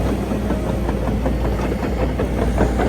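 A wood chipper spools up at a timber harvest site, its engine running as a steady, loud, broadband roar with a low rumble and hiss that holds constant throughout, with no voices present.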